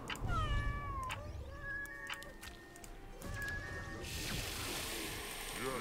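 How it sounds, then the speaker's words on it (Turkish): Cartoonish cat meows sound repeatedly from the video game Legion TD 2, layered over busy game effects and background noise, with a burst of louder action toward the end. "Kedi ver kedi kedi."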